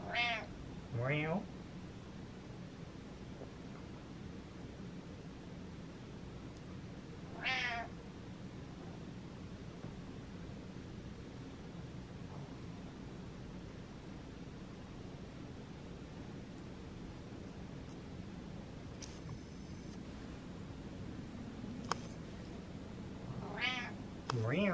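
A cat gives a few short meows and chirps, spaced apart over a steady background hiss, fairly close, with quiet human voices around it.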